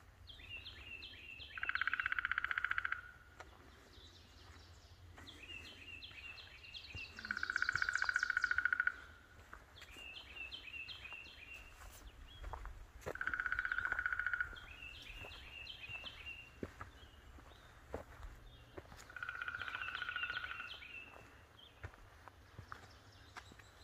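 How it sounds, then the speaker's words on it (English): Birds sing along the Appalachian Trail in the early morning, with four bright, clear phrases spaced several seconds apart over a quiet outdoor backdrop and scattered small clicks and rustles. "Love the birds early in the morning."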